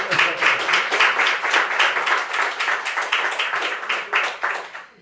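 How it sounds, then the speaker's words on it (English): An audience at a talk breaks into warm, continuous applause, many hands clapping in a dense rhythmic patter that holds steady for several seconds and thins at the very end. "So please give her another big round of applause"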